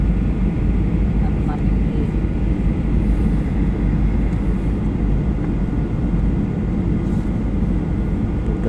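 A Garuda Boeing 737 airliner coming in to land at Soekarno-Hatta airport, heard as a loud, steady jet roar with broad low rumble that holds unbroken throughout.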